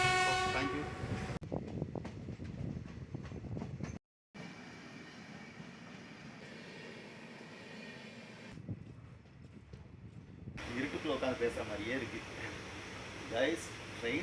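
A train rolls along the rails near Mettur Dam with a steady rumble and clatter, cut into uneven stretches, with a brief horn toot and voices at times.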